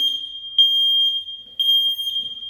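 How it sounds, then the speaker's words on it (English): Smoke detector sounding during a home move-in inspection, a loud piercing electronic beep repeating about every half second in an even rhythm, with nothing else around it. "Got a smoke detector."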